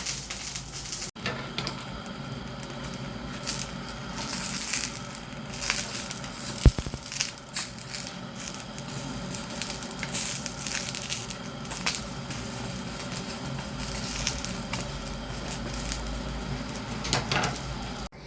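Eggplant slices frying on a tawa give a steady, faint crackling sizzle throughout, with scattered small pops and clicks and no talking.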